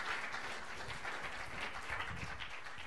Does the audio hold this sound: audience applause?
yes